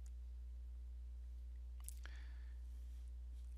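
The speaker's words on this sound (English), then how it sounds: "right click and pick rename" A single quiet computer mouse click and a short faint tick follow each other near the middle, close but soft, over a low steady hum with no voices.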